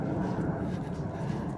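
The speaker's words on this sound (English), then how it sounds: "there's a plane over my head" A plane drones overhead as a low, steady rumble, faint and distant, heard outdoors on a walk with no voices over it.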